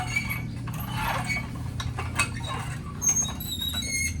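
A PCP hand pump charging a CO2 airgun, with repeated mechanical clicks and metallic strokes at an uneven pace, close and moderately loud over a low steady hum.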